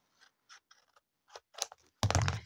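Scissors snip through paper packaging from rhinestones and stickers during a craft session, a few short crisp cuts close by, ending in a louder rustling scrape of paper.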